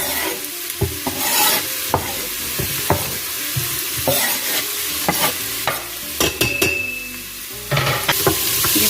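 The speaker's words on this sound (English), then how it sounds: "I'm going in with my onion and my peppers" Onion and peppers sauté in melted fat in an Instant Pot insert, a close steady sizzle under repeated sharp spoon scrapes and clinks against the metal pot.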